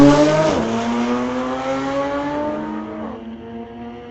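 A 2018 VW and a 2018 Porsche street car launch side by side at a drag strip, engines revving hard and climbing through gear changes before the roar fades as they pull away down the track.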